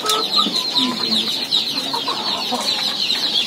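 KUB laying hens clucking steadily inside a coop on a Banyuwangi poultry farm, a dense chorus of overlapping calls close by with no talk.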